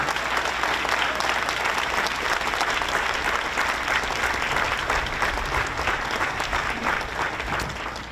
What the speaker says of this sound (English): You give him a round of applause.